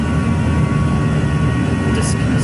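Airbus jet engines spooling up for a go-around in a flight simulator, a loud, steady, dense roar that fills the whole clip without letting up.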